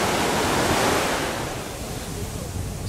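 Ocean waves at a beach in Samaná, Dominican Republic, roar as a loud, close, continuous wash of surf that slowly eases, with some wind noise over the microphone.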